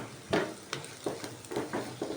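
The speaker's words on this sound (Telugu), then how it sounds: "తడి అంతా పోయేటట్టు వేపుకోవాలి." Nalleru (Cissus quadrangularis) stems being dry-fried in a pan to drive off moisture for spice powder, with soft scraping stirs and light crackle coming in short, regular strokes, close and quiet.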